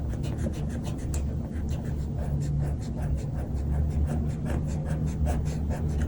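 Chalk or marker being rubbed out on a board while working a two-digit long division problem, a steady scrubbing swish repeating in quick strokes at close range, with faint breathing underneath.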